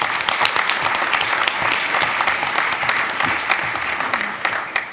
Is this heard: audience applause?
yes